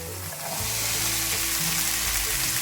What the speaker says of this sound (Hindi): तो अच्छे तरीके से चनों को आप मसाले के साथ भून लें